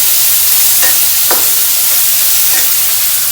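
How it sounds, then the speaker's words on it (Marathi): Chopped onion for a potato bhaji sizzling and frying in a pan, a steady hiss with a few brief stirring scrapes, close and loud with no talk. "कांदा जास्त नाही भाजायचा, थोडा कच्चाच ठेवायचा"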